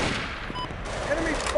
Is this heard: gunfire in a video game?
yes